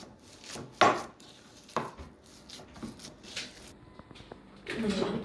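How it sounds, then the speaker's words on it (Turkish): A spoon scrapes and knocks against a bowl while unsweetened, unsalted baby biscuit dough is mixed with banana, giving irregular clatters and soft rubbing scrapes at close range. "Şu an karıştırıyoruz."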